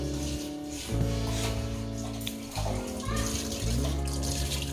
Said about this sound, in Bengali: তো আমার বাসন ধোয়া শেষ